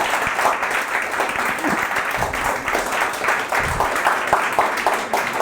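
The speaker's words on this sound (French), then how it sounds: "Trop bien les applaudissements" Applause rises from the audience after a talk on keeping desire alive in a couple, a steady patter of many hands clapping at moderate loudness with individual claps audible.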